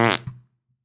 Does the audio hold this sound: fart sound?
yes